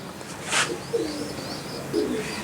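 Racer pigeons coo softly in a loft, a few low cooing calls spread across a quiet background, with one brief sharper burst near the start.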